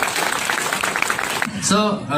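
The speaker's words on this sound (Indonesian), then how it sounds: "Kita kasih tepuk tangan yang meriah untuk Dr. Trevino." A crowd claps steadily for a moment, then the applause stops and a voice speaks over a faint tone.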